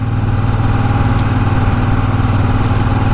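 A Royal Enfield Super Meteor 650 motorcycle engine idles loud and steady up close, a low rhythmic thrum that holds even throughout with no voices.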